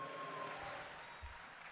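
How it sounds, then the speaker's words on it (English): A live audience breaks into steady applause that holds through the moment, with a thumping bump near the end, the clapping filling the room fairly loudly with no talk over it. "Yeah, clap it up for that."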